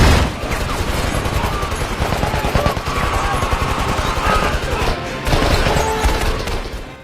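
Sustained automatic gunfire mows down terrorists in an action-film shootout, a dense, loud, rapid rattle of shots with crashes mixed in, continuous for about seven seconds with a brief dip near the five-second mark.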